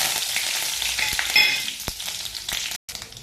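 Mustard seeds, curry leaves and dried red chillies crackle and sizzle in hot oil as a tempering for tomato and peanut chutney, a steady close hiss with scattered pops and a brief stir, and no talking.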